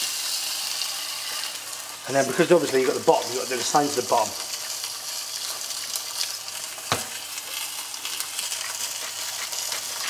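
Beef pot roast rubbed with salt sears in a pan of chili olive oil, giving a loud sizzle and frying crackle through the first few seconds that settles into a steady quieter hiss, while a person talks over it.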